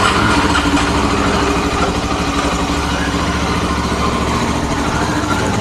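A motorcycle engine idles steadily after being started, a continuous low rumble held at a constant level from nearby, with no talking over it.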